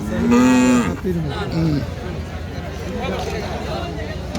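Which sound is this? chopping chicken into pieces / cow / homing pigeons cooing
cow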